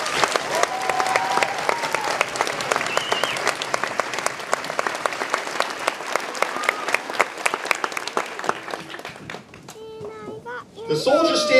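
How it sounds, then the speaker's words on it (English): An audience applauds the Army band at a military graduation ceremony. Steady, sustained clapping from a large crowd carries on for several seconds, then thins out near the end as voices come in. "Please join me in a round of applause."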